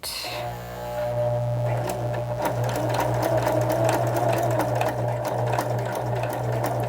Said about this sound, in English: I'll do a couple backward stitches just to lock it in